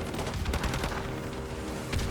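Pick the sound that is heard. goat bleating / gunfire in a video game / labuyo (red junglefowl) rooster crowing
gunfire in a video game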